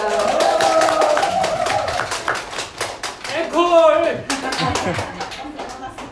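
Audience at an open-air community radio broadcast in a market clapping in sharp irregular bursts, with someone shouting a call for an encore and a brief sung or whistled phrase midway.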